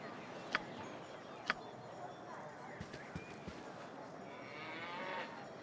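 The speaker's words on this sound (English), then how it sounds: "Moo." Cow mooing inside the video game Baldur's Gate, a low, faint moo heard under background game ambience with a few soft clicks.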